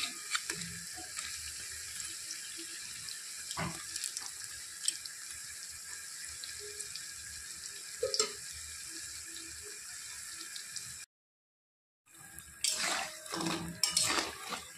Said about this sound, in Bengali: তো এই পটলিগুলো ভাজা হয়ে গেছে, এখন এগুলো উঠিয়ে নেব।